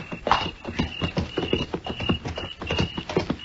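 Horses' hooves clip-clop in a steady trotting rhythm for a radio drama effect, close and continuous, with a few hoofbeats clearly separated and a faint whinny-like tone underneath.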